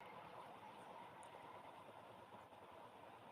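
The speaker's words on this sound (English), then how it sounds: "You can hear the metro." A metro train rumbles past on a nearby track below, a steady broadband roar holding evenly throughout at moderate, slightly distant level, with no talk over it.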